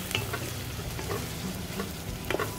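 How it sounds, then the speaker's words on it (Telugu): Tomato pieces with spices and cashews frying in a pan, a close, steady sizzle broken by soft scraping stirs and small clicks of the spoon, with no talking. "ఈ టమాటో ముక్కలు కొంచెం సాఫ్ట్ గా అయ్యే వరకు ఫ్రై చేసుకుందాము"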